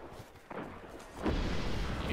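Gunfire echoes from far off in the video game Destiny, a couple of muffled booming reports with one louder thump near the end, heard alone without talk.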